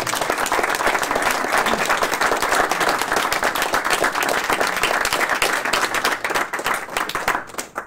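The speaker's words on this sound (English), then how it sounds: "Can we give them a round of applause?" An audience at a Board of Education meeting applauds steadily for several seconds, dense clapping that thins out and fades at the end.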